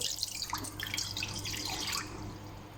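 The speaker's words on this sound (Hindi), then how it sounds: "हाफ़ लीटर पानी ऐड करेंगे कढ़ाई के अंदर।" Half a litre of water being poured into a metal karahi wok while cooking chicken tikka karahi, a bubbling, splashing trickle heard up close for a couple of seconds.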